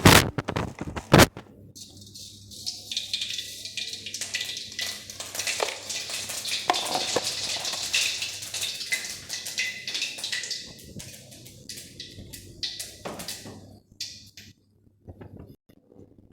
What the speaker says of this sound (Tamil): கடுகு வந்து பொரிஞ்சிருச்சு